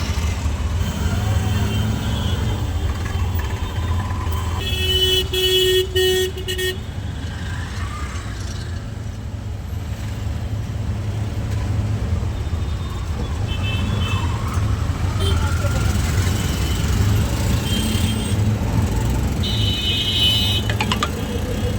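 Auto rickshaw riding through busy city traffic near a metro route in Kolkata, with a steady loud engine and road rumble, passing vehicles and scattered horn toots, and a voice heard faintly at times.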